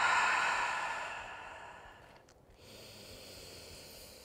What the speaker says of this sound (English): Take one more deep breath here wherever you are.